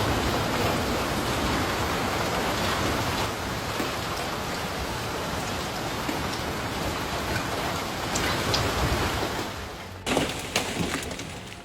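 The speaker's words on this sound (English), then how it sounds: "hailstones the size of ping pong balls pounded down" Ping-pong-ball-sized hailstones pound down in a dense, continuous roar of impacts, loud and steady throughout, with a few sharper crashes near the end.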